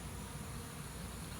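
Bees buzzing steadily inside a water meter box, a dense continuous drone that stays close and even throughout with no voices over it.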